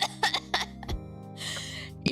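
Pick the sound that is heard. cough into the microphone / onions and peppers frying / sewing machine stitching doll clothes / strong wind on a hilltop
cough into the microphone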